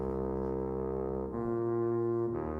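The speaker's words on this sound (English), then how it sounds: "I've totally fallen in love with the tuba." A low brass tuba patch from the Session Horns Pro Kontakt library, with a touch of reverb, plays sustained rich notes that step down twice in pitch over a few seconds, loud and alone with no voices.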